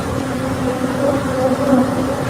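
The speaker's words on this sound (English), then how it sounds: "A truck full of bees, I guess, overturned in Texas, and they had to make everybody go inside." A swarm of bees from an overturned truck in Texas fills the air with a loud, continuous droning hum that stays steady throughout, with no speech.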